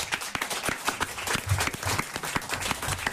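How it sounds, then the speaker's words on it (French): A studio audience on a French television show breaks into loud, dense applause for singer Linda Lemay, many hands clapping rapidly and steadily close by. "Je vous demande de l'accueillir et de l'applaudir."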